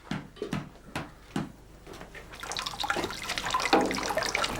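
Boiling water is ladled over olive paste in esparto mats at a traditional family olive mill with animal traction. A few brief close knocks are followed by a steady, near splashing pour that grows fuller.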